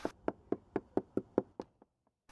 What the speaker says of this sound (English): the best method is to tap the deck with a small hammer or mallet.